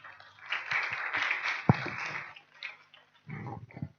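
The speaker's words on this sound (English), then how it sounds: "Clap for Anne." An audience at a national children's council congress claps for a colleague: a spread of mid-volume applause for about two seconds, then brief scattered sounds and a short low rumble of crowd noise.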